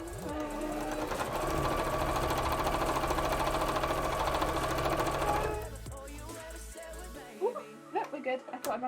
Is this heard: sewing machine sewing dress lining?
yes